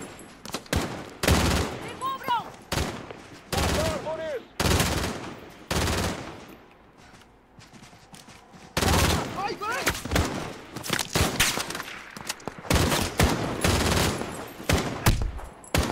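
Call of Duty: Modern Warfare (2019) firefight rings out in heavy bursts of automatic gunfire, loud and close, separated by short lulls, with players talking between volleys.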